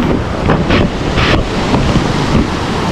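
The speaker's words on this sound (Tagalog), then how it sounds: "Lakas ng alon." Strong ocean waves surge and break near a shoreline where fishing boats are moored, a loud continuous roar of surf with repeated crashing swells and heavy wind buffeting the microphone, no voices.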